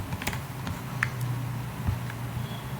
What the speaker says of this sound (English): So here type our material code.